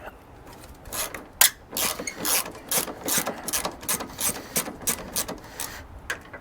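A ratchet cranks out bolts during radiator replacement on a Mazda 6 3.0. Its rapid clicking pawl runs in repeated close, loud bursts with brief pauses between strokes.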